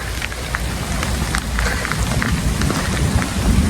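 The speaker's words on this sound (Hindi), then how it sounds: "आज सुबह सुबह बारिश आ रही है" Steady morning rain falls outdoors onto sandy ground, a continuous dense patter with scattered nearer drops hitting a surface, filling the scene without any voices.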